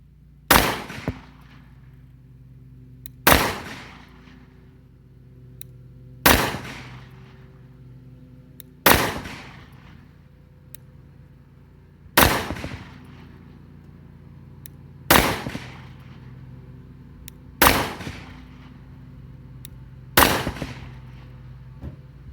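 Palmetto State Armory Dagger 9mm pistol fired with 124 grain rounds at an outdoor 12-yard range: eight sharp, loud shots spaced about two to three seconds apart, each followed by a short decaying echo.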